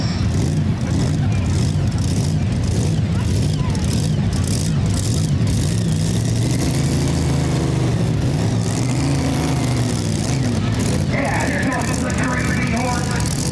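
A pulling tractor at an OSTPA tractor pull at the Morrow County Fairgrounds gives a loud, continuous deep engine rumble that shifts pitch as it revs, with a commentator talking over it throughout.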